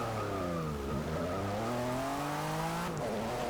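A Porsche race car in Forza Motorsport 6 roars around Virginia International Raceway's Patriot circuit, its engine note climbing steadily through the gears, loud and continuous with no voices over it.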